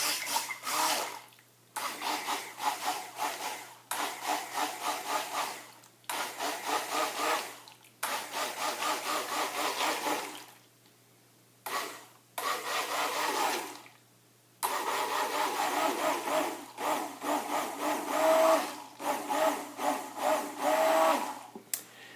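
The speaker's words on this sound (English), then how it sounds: "So, stick blender in." A stick blender whirs through a pine tar lotion in repeated pulses of a few seconds each, stopping and restarting many times with brief silent gaps, close and moderately loud.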